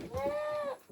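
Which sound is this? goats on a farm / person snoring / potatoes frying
goats on a farm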